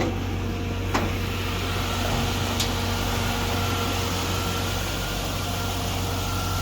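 A 1951 Chevy Bel Air fitted with a 5.3 LS V8 idles steadily with a low, even hum, joined by a couple of faint brief clicks.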